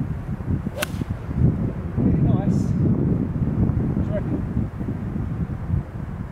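Wind gusting on an open, cold golf course, a dense low rumble and buffeting against the microphone that runs throughout, with a brief whistle-like swish early on.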